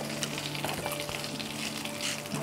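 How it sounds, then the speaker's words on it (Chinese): Potatoes frying in rendered duck breast fat for a Christmas duck dish with herbed potatoes, giving a steady, close sizzle with faint crackles that runs without a break and without talk. "我哋就用呢一個鴨胸嗰啲油咧嚟煎我哋呢個薯仔啦噃"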